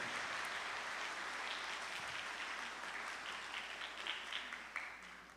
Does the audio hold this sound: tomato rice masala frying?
no